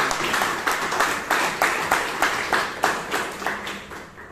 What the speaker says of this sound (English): please give an impressive round of applause